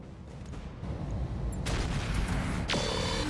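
Mech weapons fire on a Corsair mech in the BattleTech-based game RogueTech, with sharp bursts and a heavy impact over a dense, constant mechanical rumble.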